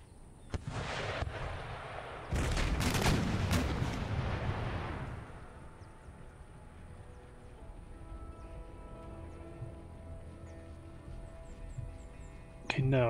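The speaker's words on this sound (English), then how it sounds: "You guys continue to pound their artillery" Artillery in the Empire Total War battle booms and rumbles in a dense volley of overlapping blasts, loud for a few seconds before fading into a softer battlefield murmur, with a final sharp shot at the end.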